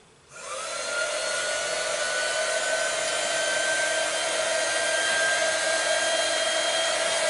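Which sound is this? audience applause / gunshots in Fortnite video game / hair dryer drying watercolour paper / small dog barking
hair dryer drying watercolour paper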